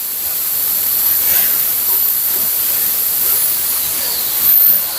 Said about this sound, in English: On the steamer here, just getting this all steamed up, there are 3 different pressures.